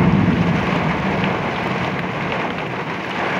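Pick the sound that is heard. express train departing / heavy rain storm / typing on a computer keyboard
heavy rain storm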